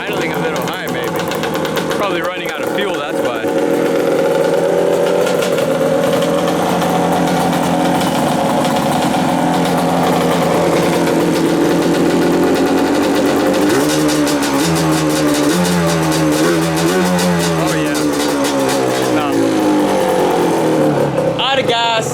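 A rebuilt Yamaha Banshee ATV engine idles steadily near the listener, running a little high, with revving that rises and wavers toward the end.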